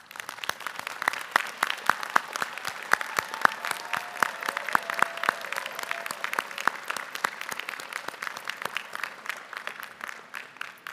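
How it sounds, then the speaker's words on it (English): Graduation audience at a UC Merced fall commencement applauds family and friends, a sustained even wash of many hands clapping across the whole stretch at steady loudness, with a few sharp nearby claps standing out. "join me in a round of applause for your family and friends"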